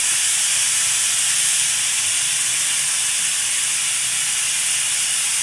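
Chicken pieces frying in oil in a pan, a steady loud hiss of sizzling oil running without a break, with no talk over it.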